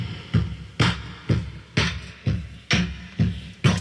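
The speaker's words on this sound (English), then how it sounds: "That is the sound of me hitting my desk like that" A hand strikes and slaps a desk with cups, making a percussion build-up of eight dull thumps with bright slap tops, evenly spaced and close, with no voices.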